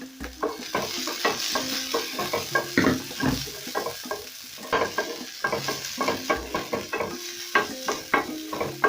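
Onions sauteing in hot cooking oil in a pan for a pork dry fry, a continuous close sizzle broken by rhythmic scraping stirs from a spatula, no talking.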